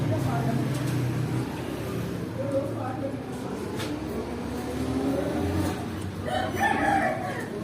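Rooster crowing at a bird shop in Azad Kashmir, Pakistan: a crow rises at the end among clucking fowl, with people talking and a vehicle engine revving in the background.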